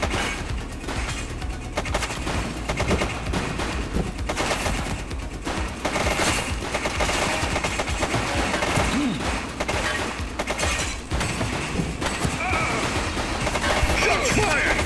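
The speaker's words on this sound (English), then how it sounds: "Shots fired!" Sustained gunfire rattles through a police crime simulation video game, with dense overlapping bursts of automatic fire and shots going on nonstop at high volume for the whole stretch.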